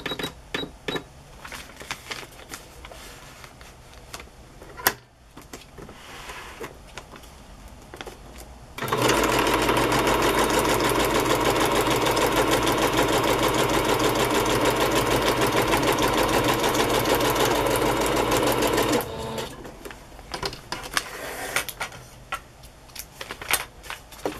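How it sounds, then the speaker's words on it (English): A sewing machine runs a long, continuous straight stitch down the center fold of a junk journal, a loud steady whir lasting about ten seconds between quieter handling sounds. "I'm going to stitch right down the center fold, straight stitch"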